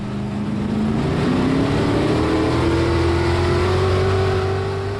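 On-board engine of the 24C street stock race car at Boomtown Speedway, idling loud and close, then revving with a slowly rising pitch while waiting for the green flag, steady and unbroken.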